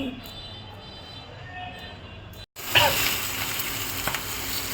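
Pangas fish fries in a pan with a loud, hissing sizzle that starts abruptly after a brief gap and continues steadily, with some kitchen noise in the background.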